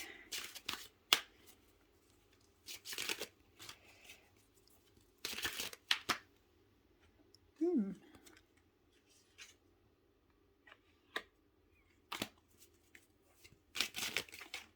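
Tarot cards are shuffled by hand in repeated bursts of riffling and flicking, close and crisp, with quiet pauses between the bursts.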